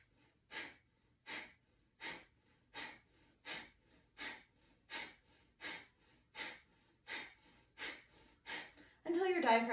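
Pranayama breathing with forceful inhales, about a dozen evenly spaced sharp pumping breaths close to the microphone, ending in a brief louder burst.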